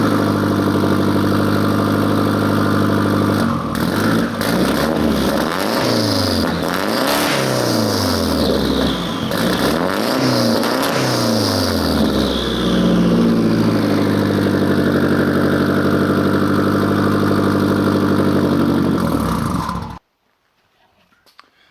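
A Mitsubishi 3000GT engine with a larger turbo turbine housing idles through a single-muffler exhaust, then revs up and down in several loud bursts before settling and cutting off abruptly near the end.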